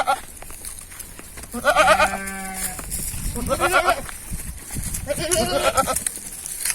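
A goat on a farm bleats loudly in labor while giving birth, with several strained, wavering cries in a row under background noise and a faint human voice.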